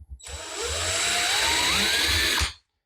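A power drill boring holes for cabinet handles through a template, one continuous whining run of about two seconds with rising pitch as it cuts, close and loud, then stopping abruptly.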